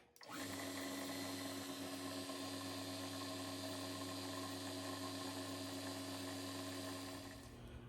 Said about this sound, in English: So I'm going to take this one to the drill press and polish the valve stem right away